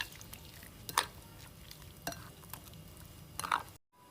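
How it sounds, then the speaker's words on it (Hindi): Ground onion, ginger, garlic, green chili and coriander paste stirred into chicken for an Afghani gravy, heard as a faint, soft mixing sound with a few sharp clicks of the utensil against the vessel. "ये सारा डाल के हम इसको अच्छी तरह मिक्स कर लेते हैं।"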